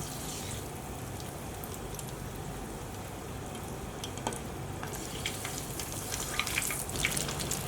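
Scotch eggs deep-frying in hot oil give a steady, fairly quiet hissing bubble that grows busier and a little louder toward the end, with scattered tiny pops.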